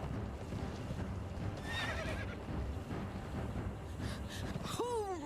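A horse in the video game Conan Exiles whinnies loudly near the end, over steady game ambience with clip-clopping hooves and an earlier faint whinny.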